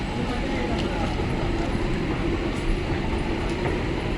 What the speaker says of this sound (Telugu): Under ground metro feels different guys.